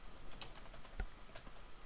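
Typing on a computer keyboard while entering VHDL code for an LED blink project in Xilinx software: a few soft, sparse key clicks over quiet room noise, with no voices.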